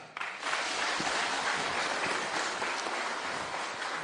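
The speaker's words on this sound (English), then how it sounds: "Kindly let's give our chief guest a better clap." Applause from a seated audience greeting the chief guest at a health-policy gathering, a steady dense wash of many hands clapping that swells in quickly and holds loud and even throughout, with no talk over it.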